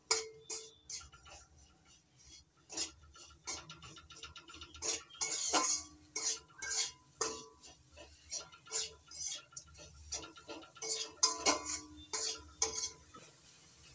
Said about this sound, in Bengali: চিনির গুঁড়োর সঙ্গে নারকেল কোড়াটা ভালো করে মিশিয়ে নিচ্ছি।